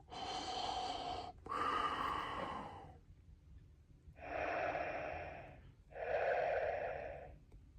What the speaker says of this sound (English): The sound of the breathing is almost very familiar to Darth Vader's actual breathing